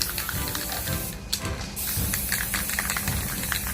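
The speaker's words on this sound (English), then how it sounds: "just spray it a little bit with the dark green" An aerosol can sprays dark green paint over a cork-covered M1 army helmet, a close continuous hiss broken by a brief pause and then resumed.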